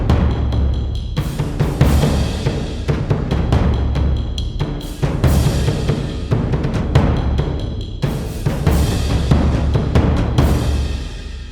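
Cinematic percussion demo built with the Percussion Essentials X3M library: dense, loud, driving drum hits and booming low impacts throughout, with brief breaks and accents roughly every few seconds, no voices.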